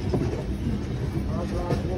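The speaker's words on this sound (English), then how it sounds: "such a biggest train যেটা দিয়ে আমরা এখন ট্রাভেল করতেছি" An Indian superfast express train from Kolkata to Chennai, heard from onboard: a continuous rumble of wheels on rail with rhythmic clatter, moderately loud and steady throughout.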